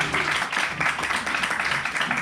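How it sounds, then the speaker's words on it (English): An audience applauds panelists at a packed talk, dense and sustained clapping from a full house that holds at an even level throughout. "One more round of applause for our panelists."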